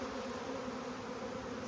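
A swarm of bees clustered on a tree branch gives a dense, continuous buzzing hum, close and steady, with no voices.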